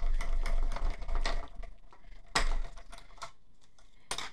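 A small paper-craft embossing machine cranks a folded card through its rollers, giving a close, gritty mechanical grinding with rhythmic bursts, followed by a few sharp clicks and thumps as the paper comes out.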